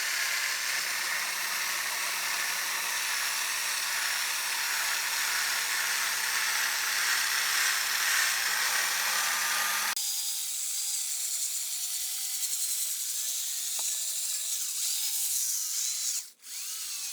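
An electric sanding pad wet-sands a car headlight lens with 1500-grit paper, making a steady, close buzzing whir that cuts off partway through, followed by quieter handling sounds.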